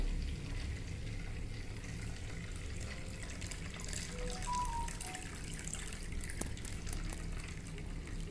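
Quiet water sloshing and swirling as soaking wheat is stirred in a container, a soft steady wet churning with a faint clink midway.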